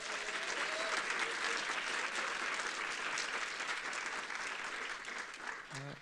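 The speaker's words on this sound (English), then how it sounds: "a big round of applause for all of today's presenters" Conference attendees at Code4Lib 2025 give a big round of applause for the day's presenters, a continuous dense clapping from a large room that holds steady and tapers slightly toward the end, with a voice faintly emerging at the close.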